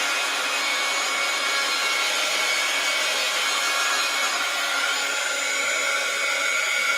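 A handheld dryer blows a steady, even hiss of air at close range for several seconds, drying glue on a paper tag.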